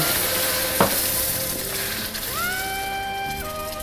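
Hot oil sizzles and crackles steadily as water pours into a pan of frying semolina, with a brief sharp splash and some metallic scraping and stirring.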